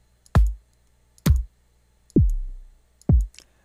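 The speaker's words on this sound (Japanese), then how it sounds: "ほとんどがバスドラです。" Four deep, punchy bass drum samples from drum software, evenly spaced with short pauses between, one with a longer booming tail; no voices.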